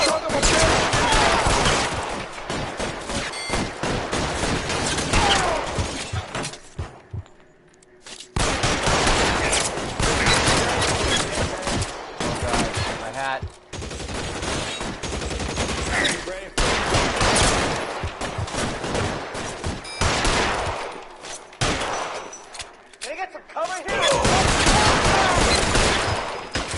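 Gunfire from a shootout in the video game L.A. Noire, with loud, rapid bursts and volleys of shots crackling almost without pause and only brief lulls between.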